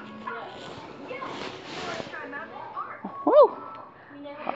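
Household dogs bark and yip in short bursts at a moderate distance, with one sharper yelp standing out, over background chatter and voices during an indoor phone live stream.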